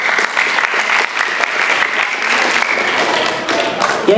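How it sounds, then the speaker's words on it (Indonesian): Sustained applause from a school graduation audience at an Al Azhar elementary event, dense and loud clapping that holds steady for several seconds. "Kasih tepuk tangan semuanya."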